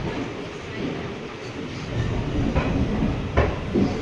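A train pulls into a railway platform at Mysore station, a broad rumbling roar with rail clatter and a few sharp knocks, fairly close, with faint voices in the background.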